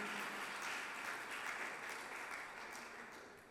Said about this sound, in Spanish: De un fuerte aplauso a Dios, por favor.